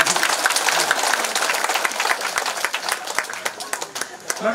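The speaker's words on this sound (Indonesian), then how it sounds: "Tepuk tangan untuk para imam yang nakal-nakal ini ya." A church congregation applauds the priests at the blessing of a Marian grotto, a dense, steady wash of clapping with scattered sharper claps that thins slightly toward the end.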